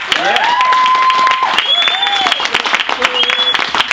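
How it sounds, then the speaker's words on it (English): Applause from a small live audience at an indoor talk, steady clapping near and loud for the full length, with voices speaking and calling out over it. "I reckon you clap that up."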